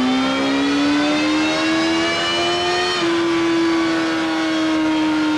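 A 1992 Suzuki GSX-R1100 motorcycle engine revs through the gears, a loud, continuous droning whine that climbs steadily in pitch, dips briefly at a gear change and rises again, heard alone without talk.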